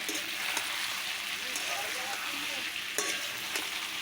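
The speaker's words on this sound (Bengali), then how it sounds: "এভাবে কষিয়ে কষিয়ে আমি আজকে দেশি মোরগটা রান্না করে নিলাম" Country chicken is stir-fried in a pot, giving a close crackling sizzle broken by several sharp scrapes and knocks of a spoon against the pot.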